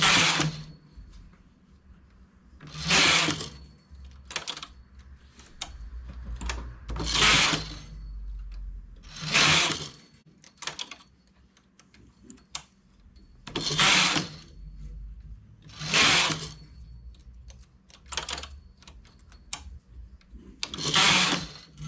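A domestic knitting machine knitting a V-neck collar, its carriage swept back and forth in repeated loud whooshing passes a few seconds apart, with quieter clicks and needle handling between strokes.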